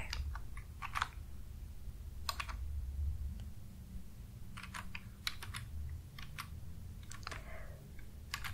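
Soft fingers type on a computer keyboard in close, quiet bursts of rapid clicks with short pauses between runs. A low rumbling hum sits underneath throughout.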